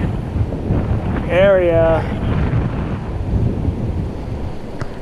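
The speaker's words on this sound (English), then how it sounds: "The wind just came up out of nowhere and it is just howling" Strong wind buffets the microphone beside the West Walker River in winter, a steady low roar that continues throughout, and a brief voice rises over it partway through.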